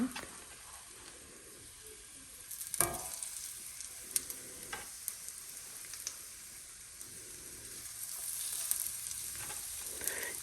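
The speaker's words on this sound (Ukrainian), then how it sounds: "трохи в неї налила масла, небагато, але щоб підсмажилася і була скоринка. Зараз буду смажити." Steady sizzling of food frying in a small amount of oil in a pan, a continuous crackling hiss with occasional louder pops and spatters, close by and without talk.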